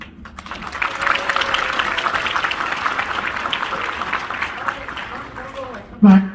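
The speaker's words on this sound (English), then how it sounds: "Big round of applause for Tommy John." An audience at a magic and music stage show applauds a performer named Tommy John: a steady wash of many hands clapping, fairly close, fading slightly before a brief louder burst at the very end.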